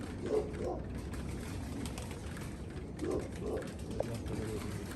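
Pigeons coo softly in low, rolling bursts, a couple of times, with some chatter and outdoor noise underneath, at a pigeon loft.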